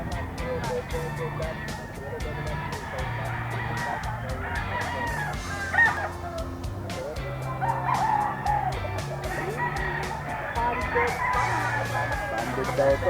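Yellow-legged banded roosters in a gamefowl yard crow and cluck intermittently across the scene, several birds at moderate distance, beneath ongoing conversation.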